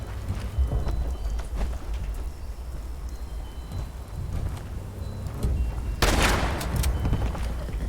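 Gunfire in the game Fallout 76, a run of rapid shots and pops under constant busy background noise, with a louder burst of fire near the end.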